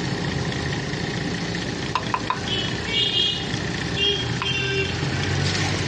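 Mutton for kosha mutton sizzles and fries in a pan while being stirred, a steady dense crackle with a few sharp clinks of the spoon against the pan, close and continuous.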